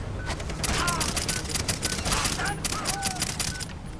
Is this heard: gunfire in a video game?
yes